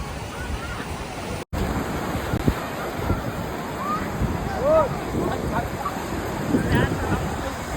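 Sea waves wash in at Marina Beach in Chennai as a continuous rushing surf mixed with wind buffeting the microphone. Voices are faintly audible in the background.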